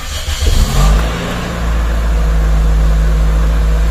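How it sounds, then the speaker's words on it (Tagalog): A Toyota Corolla Altis 1.8G automatic engine cranks and catches, then settles into a loud, steady idle with a rising hum, recorded up close with no talking. "Pagka pinandar po natin yung makina"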